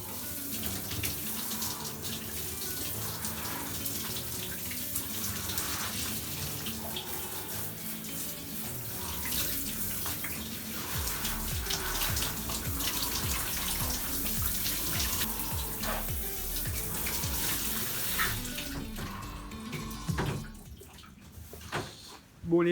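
Cold water from a shower runs in a steady, loud, unbroken rush that fills the whole stretch, with a faint hint of voice partway through and a brief change near the end.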